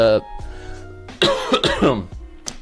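A close, harsh cough with throat clearing, broken up by brief bits of voice.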